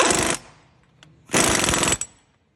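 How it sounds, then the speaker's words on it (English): Impact wrench tightening the front axle nut on a Toyota Tacoma 4WD during a wheel bearing hub replacement, two loud close rattling bursts with a short pause between. "we're going to put in the axle nut on there. And just tighten that up"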